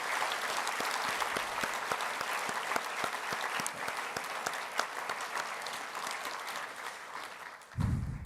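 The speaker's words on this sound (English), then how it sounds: "Let's give a round of applause" An audience at an EcoCAR EV Challenge awards ceremony claps in a dense, sustained round of applause, steady and fairly loud, ending with a brief thump near the close.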